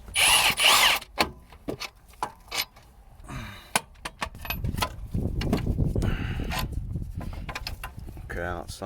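Power tool bursts while a bolt is removed from a car gearbox: a loud whirring run at the start, then short intermittent spurts and clanks, with someone talking nearby.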